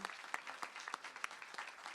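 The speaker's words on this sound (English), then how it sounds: "give a round of applause to all the people from law enforcement" Audience applause for law enforcement guests at a community safety meeting on Milwaukee's South Side, a brief, fairly faint patter of clapping with a few sharper claps standing out.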